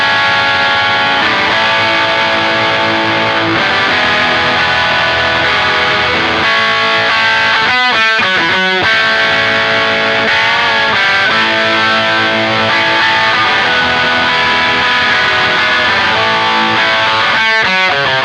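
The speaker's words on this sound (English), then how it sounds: "really full-bodied, really appropriate for an overdrive type sound" An electric guitar riff played through an overdrive distortion effect, loud and sustained with thick chugging chords and a few sharp rhythmic stops.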